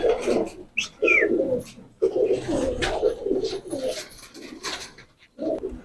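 Tonk breed pigeons coo repeatedly up close, their soft throaty calls coming in rounded bursts with short pauses, one bird overlapping another.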